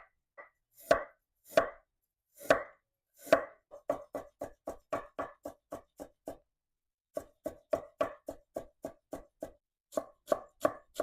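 A knife chops a shallot on a cutting board: a few slow single strokes at first, then quick runs of sharp rhythmic knocks. A short pause falls between the runs.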